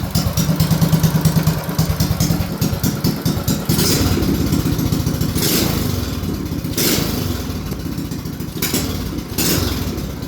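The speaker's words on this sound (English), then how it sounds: "Listen to how slow and low that idle is." A Performance 224 engine idles slow and low, its loud, steady, loping rumble clattering on for the full stretch, with a few brief revs rising near the middle.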